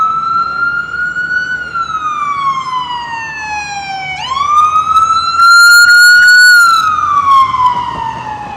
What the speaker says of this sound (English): it wouldn't be New York without a siren.